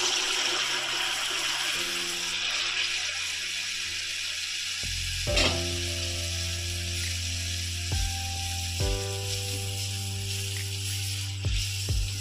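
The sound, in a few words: palm-fruit pitha cakes deep frying in oil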